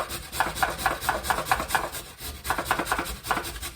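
A carrot is rubbed down a fine grater in quick, even rasping strokes, about two to three per second, close and clear, with a short pause midway and no talk.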